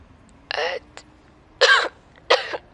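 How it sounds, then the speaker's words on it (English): A man coughs in three separate wet, painful bursts, close and fairly loud, with short pauses between them. "Oda cuts off, coughing. It's a wet, painful noise"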